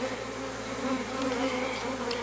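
Honey bees buzz around a hive frame during an April inspection at a forest apiary, a dense, continuous close-up hum with layered droning tones and no talking.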